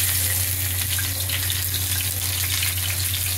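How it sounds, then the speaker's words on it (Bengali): Masala-coated pomfret fish frying in hot oil, a constant dense sizzle with a faint watery crackle underneath, steady and close throughout without speech. "দেখুন আমি দুটো ছাড়লাম, এটা ভাজা হবে।"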